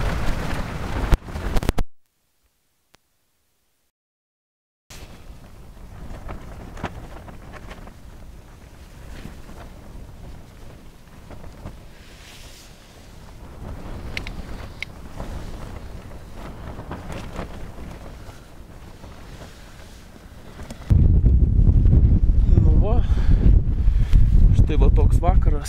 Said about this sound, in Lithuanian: Va, vėjas tai kosminis.